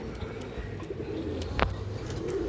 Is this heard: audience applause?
no